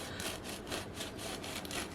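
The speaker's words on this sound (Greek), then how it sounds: "το κόβουμε στη μέση" Knife sawing through a soft hot dog bun, a quiet rhythmic back-and-forth rasp of several quick strokes, close and alone without talk.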